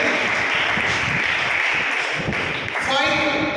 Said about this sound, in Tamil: கேர்ள்ஸ் கைதட்டுங்க கைதட்டுங்க